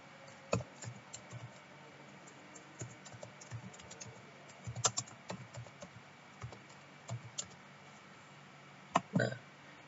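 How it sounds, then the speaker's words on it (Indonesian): Quiet keyboard typing as an email is written: scattered, irregular soft key clicks with brief pauses and a few sharper taps, close and alone against a faint room background. "di bawahnya ini adalah tempat kita mengetikkan isi dari email tersebut. Nah, kita ketikkan."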